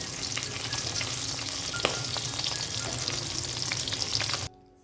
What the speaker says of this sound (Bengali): মাছগুলোকে খুব হালকা করে একটুখানি ভেজে নেবো